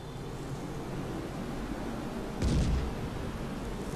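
Weapon fire in the MAV video game: a single short burst stands out around the middle over a steady rumbling noise bed, with no talking.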